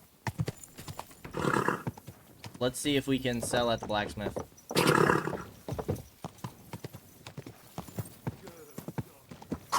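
Horse hooves clop along in a trot in Kingdom Come Deliverance 2, steady rhythmic footfalls running through the whole stretch while someone talks over them.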